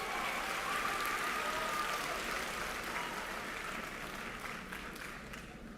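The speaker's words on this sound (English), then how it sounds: "Give this group a round of applause." Steady, dense applause from a graduation ceremony audience, a sustained wash of many hands clapping at a distance throughout.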